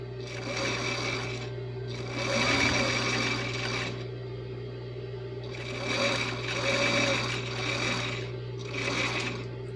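A sewing machine stitches the fabric of a strappy ruffled dress with a presser foot, running in several steady mechanical bursts with short pauses between them over a constant low hum.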